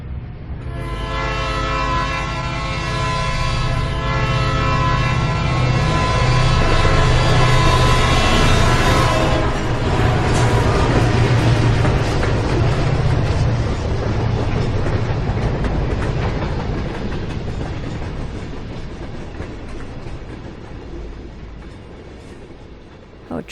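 A train passes close by, its horn sounding a long sustained chord that swells loud and then fades as the rumble of the cars continues and slowly recedes.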